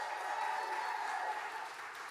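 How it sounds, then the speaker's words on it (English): Practice round of applause from a live podcast audience at an arts centre warm-up, a steady wash of clapping that holds for about two seconds and fades slightly at the end. "Let's just do a little practice round of applause."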